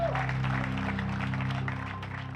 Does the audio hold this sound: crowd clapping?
yes